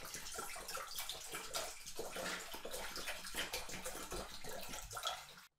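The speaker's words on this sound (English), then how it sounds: "Pour some water into the pan." Water pours from a bottle into a pan in a steady, splashing stream lasting several seconds, close and alone, ending abruptly as the pouring stops.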